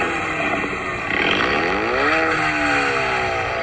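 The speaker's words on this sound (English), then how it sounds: "See how loud it is with just the mufflers going?" A car engine revs hard through an exhaust running only mufflers, a loud, steady roar with the pitch sweeping up and back down as the throttle opens, close by with no talk.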